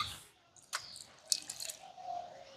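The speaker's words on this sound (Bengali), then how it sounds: "ওই বাটিরই হাফ বাটি জল নিয়েছি, যেটার মধ্যে আমি চালটা বেটেছিলাম তার মধ্যে দিয়ে দিচ্ছি।" Water poured into the bowl used for grinding rice, a brief close splash and trickle with a few drips, alone and fairly quiet.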